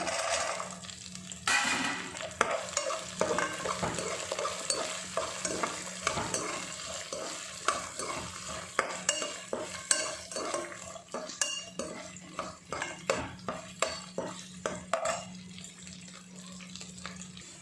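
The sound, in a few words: green peas added to a frying pan and stirred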